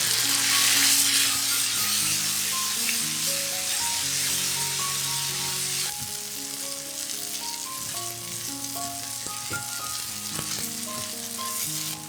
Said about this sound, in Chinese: 再倒入番茄炒一炒，